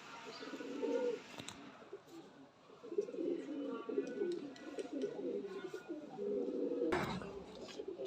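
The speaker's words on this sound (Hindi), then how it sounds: "इंडियन सुर्खे कबूतर है ये।" Indian red pigeons, a paired couple, coo in a steady low murmuring run of calls across the whole stretch, fairly close, with a brief sharp knock near the end.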